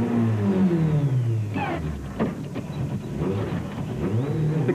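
A rally car beached on a mound at the Toyota Dealer Rally in Gauteng, 2007, its engine revving hard in loud, uneven bursts as the driver tries to free it.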